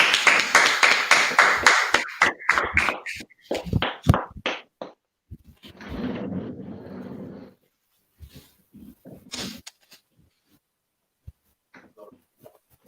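A congregation at a Sabbath service claps out a rhythmic pattern, a run of sharp, loud, evenly spaced claps followed by a few scattered claps and a brief murmur of voices before trailing off into quiet.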